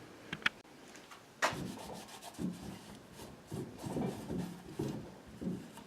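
Rag soaked in paint thinner wiping paint off a homemade gasket, heard as soft, close scrubbing and rubbing strokes in an uneven rhythm, with a few sharper knocks near the start.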